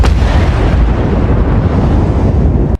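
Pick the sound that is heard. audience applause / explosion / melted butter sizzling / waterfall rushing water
explosion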